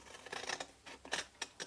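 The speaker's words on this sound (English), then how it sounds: "These are not my good scissors." Scissors snip paper in a few quick, crisp cuts, close and fairly quiet, with short pauses between.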